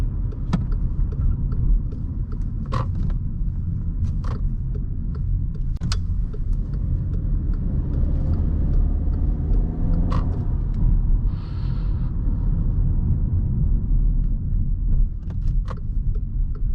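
A 2021 Volkswagen Passat drives through rush hour traffic, heard from inside as a steady low road rumble with occasional clicks and small interior rattles, and no one talking.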